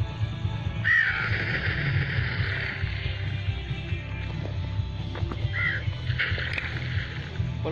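Crow caws ring out in the video game Survival Craft 2, a harsh call near the start and another midway, heard over a steady low game ambience with watery background sound.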